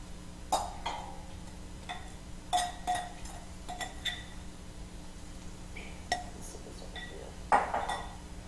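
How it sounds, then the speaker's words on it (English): Metal utensils clink and scrape against a pan as one large sweet onion goes into browning meat, with a few sharp knocks spaced over several seconds above a steady low kitchen hum. "I'm going to go ahead at this point and add our one large onion into the mixture"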